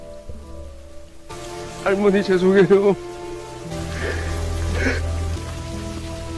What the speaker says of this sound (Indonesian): Genangan air semakin tinggi akibat hujan turun sangat deras di luar sana.